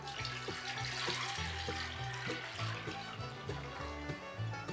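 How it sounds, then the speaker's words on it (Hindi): Boiled, cooled milk pours into a bowl for a sabudana rose drink as a steady liquid stream, partly masked by rhythmic background music. "अब एक बोल में डालेंगे 4 कप दूध"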